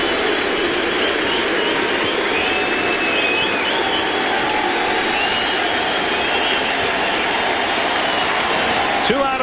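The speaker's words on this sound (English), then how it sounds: "And now what remains of the crowd rises as one." Baseball crowd in the ninth inning of an NLDS playoff game between the Dodgers and the Reds rises and cheers as one, a dense sustained roar with whistles, while an announcer talks over it.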